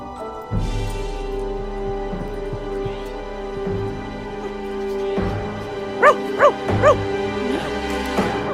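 A dog gives a quick run of about three sharp barks in a dramatic film scene. The barks rise above a steady, droning backdrop of music and ambient sound.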